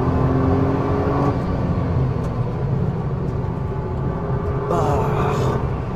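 A Nissan GT-R Nismo on a race track, its engine droning and rumbling steadily as it drives, with a brief rise in pitch near the end suggesting revving under braking or acceleration.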